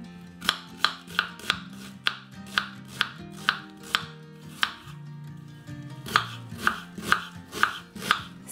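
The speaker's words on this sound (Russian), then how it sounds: "Некрупно нарезаем лук." A knife chops onion on a cutting board in a brisk, even rhythm of about twenty crisp close knocks, with no talk over them.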